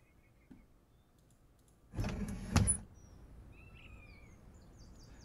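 An aircraft cockpit window is opened in Microsoft Flight Simulator 2020: a short sliding clunk and click, after which the surrounding ambience becomes slightly louder and more open, with faint bird-like chirps in the background.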